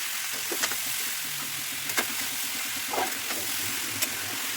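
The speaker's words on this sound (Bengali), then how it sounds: "কড়াইতে দিয়ে দেওয়ার পরে এগুলো সামান্য নাড়াচাড়া করে" Food being stirred in a hot kadai on a home stove, with a soft steady sizzle and a few scraping spoon strokes against the pan, fairly quiet throughout.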